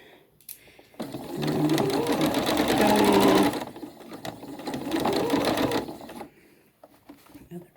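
Sewing machine stitching a drawstring bag, running in two bursts of rapid mechanical whirring and needle clatter separated by a short pause, close and fairly loud.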